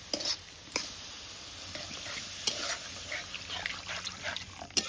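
Mango chutney being stirred in a pan just after water is added, with soft scraping strokes, a few sharper clinks and a low watery sizzle throughout, fairly quiet and close.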